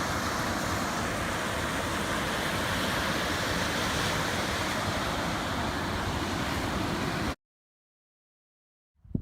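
Steady ocean surf roars continuously at a low, even level before cutting off abruptly into silence.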